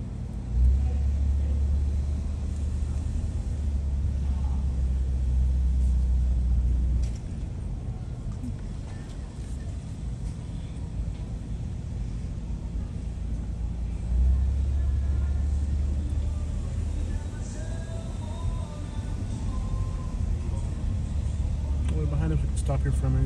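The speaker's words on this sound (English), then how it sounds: "Here for a minute, just watch traffic go by." Street traffic rolls past in San Francisco's Chinatown, with a low steady engine rumble that swells as vehicles pass and eases off in between, while people talk under it.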